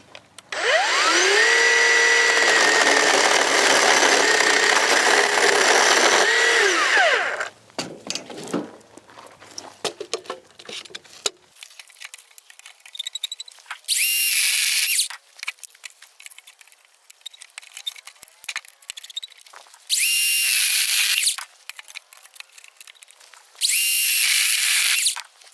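A Black & Decker 40V cordless chainsaw cuts a tree branch, first a loud sustained buzzing cut of several seconds, then clattering and rustling, followed by three short bursts of high revving as the motor spins up between pauses.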